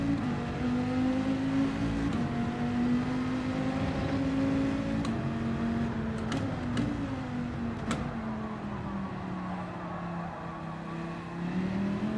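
Viper race car engine in a racing video game, a steady sustained drone with gentle pitch shifts as it holds speed, loud and continuous with no talking.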